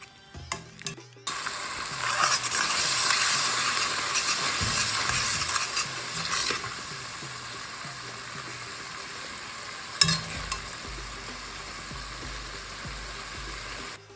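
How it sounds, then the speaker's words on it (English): Onions frying and being stirred in a pot for a vegan curry, a steady close sizzle with scraping stirring sounds that fades partway through, then a sharp clank and quieter scraping. "stirring continuously so that it doesn't stick to the bottom of the pot"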